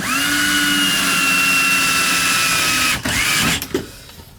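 A power screwdriver or drill whirs steadily on the screws of a small dripping hand-sink faucet, its motor tone holding for about three seconds before stopping, with a few short bursts and clicks after.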